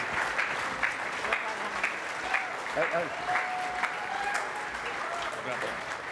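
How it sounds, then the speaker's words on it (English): A crowd applauds steadily for a racing driver at the Goodwood Festival of Speed, with a voice speaking over the clapping and a few louder bursts throughout. "Ladies and gentlemen, can we get one huge final round of applause for Mr. Derek Bell, please?"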